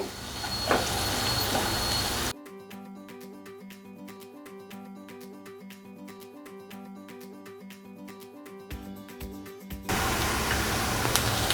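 Onions fry over high heat with a bay leaf in a pan, a steady hissing sizzle heard at the start and again at the end, with music filling the stretch in between.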